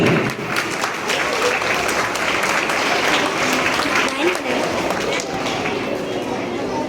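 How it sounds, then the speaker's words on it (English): Students at a school head boy and head girl announcement clap for the candidates in a loud, continuous burst of applause that fills the hall, with crowd chatter and voices mixed underneath. "Students, all the candidates, please clap for them."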